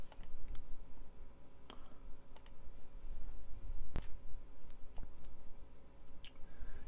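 A computer mouse clicks to download a file: a handful of sharp, quiet, scattered clicks with short gaps between them, over a faint room hum.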